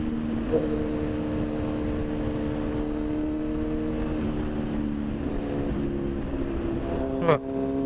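A 2019 Kawasaki Z900 motorcycle engine hums with steady tones that shift in pitch as it pulls away. Wind noise runs underneath, and a sharp burst comes near the end.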